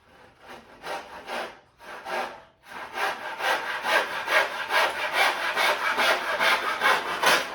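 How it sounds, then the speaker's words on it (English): Rhythmic rasping strokes of a hand saw cutting through pallet wood, a few short bursts then a steady fast back-and-forth, close and loud. "Once we've started, we're going to let the saw do the work."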